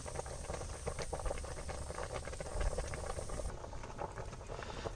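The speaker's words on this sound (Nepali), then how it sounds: "अब चाहिँ मजाले उम्लिँदैछ है तपाईँले साउन्ड पनि सुन्न सक्नुहुन्छ" Stinging nettle (sisno) boiling in a pot gives a steady bubbling, spattering simmer that runs unbroken and fairly close, with no voices over it.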